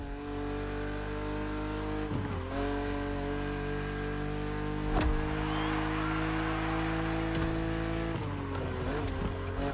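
Steady engine drone of a BMW Z roadster racing in The Crew, holding a continuous revving tone with brief gear-shift dips and a short screech near the middle, loud and close throughout.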